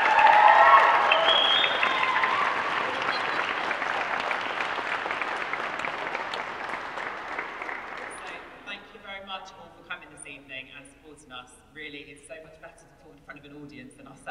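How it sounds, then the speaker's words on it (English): Audience at a Christmas choir concert gives James a big round of applause, loud and dense at first, then gradually fading as a voice takes over in the second half. "can I just have a massive round of applause for James?"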